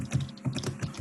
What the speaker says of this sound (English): Typing fast.